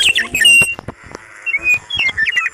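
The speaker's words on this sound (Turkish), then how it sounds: "Bu kuşlar çok ses yapıyor arkadaşlar." Several bright video game bird chirps and whistles trill in quick, overlapping bursts, close and fairly loud, with a few short clicks between them, in a survival game.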